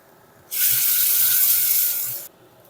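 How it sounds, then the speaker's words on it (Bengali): Spice paste hits hot frying onions in a pan for an egg dish, setting off a sudden loud, close sizzle. The hiss holds steady for nearly two seconds and then cuts off, with no voices. "এর মধ্যেই দিয়ে দেবো এবারে আগে থেকে পেস্ট করা মশলাটা"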